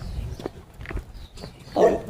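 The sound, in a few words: dog barking at another dog walking by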